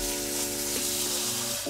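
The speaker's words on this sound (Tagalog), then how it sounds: "kumukulo na ang ating tubig" Water comes to a boil in a pot while cooking tinimtim, giving a steady, continuous bubbling hiss with a faint tonal hum underneath.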